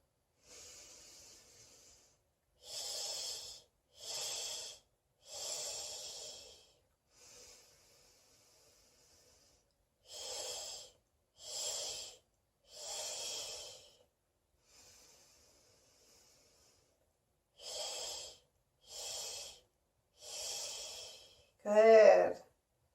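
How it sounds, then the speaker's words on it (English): Breathing exercise for natural childbirth: each exhale is cut into three short, equal bursts, with three breath cycles of three sharp hissing puffs separated by quieter inhales, close and alone, ending in a brief vocal sound. "Now we're going to do 3 breaths, but this time we're going to cut our exhale into 3 he's."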